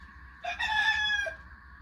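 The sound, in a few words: rooster crowing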